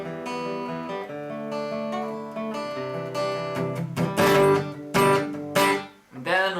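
Acoustic guitar playing a solo, picked melody notes over ringing chords that build into bright, loud strums near the end, played alone with no voice.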